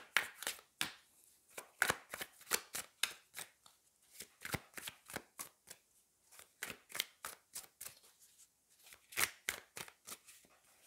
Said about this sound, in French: je vais prendre 3 cartes de tarot